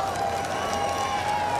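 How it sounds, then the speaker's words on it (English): A golf gallery at the Deutsche Bank Championship roars and applauds after Phil Mickelson's par-saving flop shot, a steady dense wash of cheering and clapping heard from a distance for under two seconds. "Crowd's gone bananas out there."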